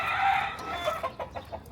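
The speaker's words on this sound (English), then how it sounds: "I'm not playing the chicken music because I can't really see the chickens. I hear them." Chickens on a Philadelphia street cluck in a quick series of short, moderately close calls, with no speech over them.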